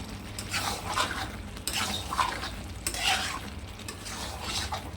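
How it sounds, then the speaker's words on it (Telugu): A spoon stirs chicken drumstick curry in a sizzling pan, in repeated scraping sweeps roughly once a second, close and clear over soft frying. "ఇలా పైకి కిందకి కలుపుకుందాం."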